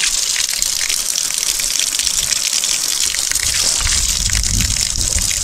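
Running water gushes in a loud, steady, unbroken rush with no pause or change throughout, close by and with no voices over it.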